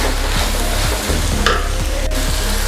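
Tomatoes, ginger and garlic cooking in hot oil for Chettinad chicken gravy, loud close sizzling with repeated rhythmic spatula scrapes and a sharp clink partway through, no voices.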